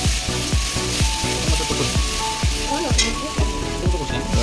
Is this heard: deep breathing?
no